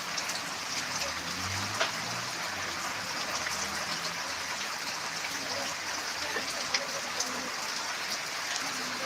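Sudden rain pours steadily over a town, a dense, even hiss of drops on surfaces with occasional louder splashes, continuous and fairly close, with no clear voices.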